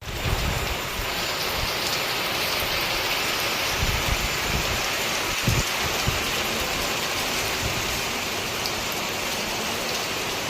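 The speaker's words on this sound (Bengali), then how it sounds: "অনেক পানি হচ্ছে প্রচুর, একদম চারিদিকে একদম এত ঝড় আর বৃষ্টি" A heavy storm downpour soaks an outdoor area around a playing field. A dense, continuous roar of rain stays close and loud throughout, with occasional low rumbles and spatters underneath and no voices.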